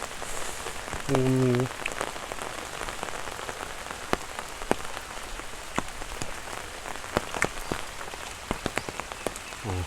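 A stormy day's rain pours steadily in a close, continuous patter with sharp individual drop taps scattered through, broken early by a brief croaking call; no speech.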